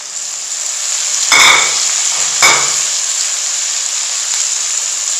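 Tomatoes and turmeric frying in a pan give a steady sizzling hiss, broken by two sharp utensil scrapes against the pan in quick succession, close and alone without talk.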